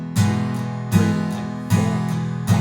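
Acoustic guitar strumming the pre-chorus chords of a song, four evenly spaced strums ringing out close and clear with no voice over them.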